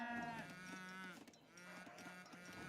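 Cattle moo in the Age of Empires III video game, a couple of low drawn-out bovine calls in quick succession, fairly faint and alone.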